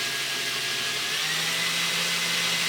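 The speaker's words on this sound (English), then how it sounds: "I'm just going to spin the drill and hold this guy up to it." A power drill spins steadily and continuously throughout while pinewood derby wheels are held to it, a close, even whirring drone with no pauses.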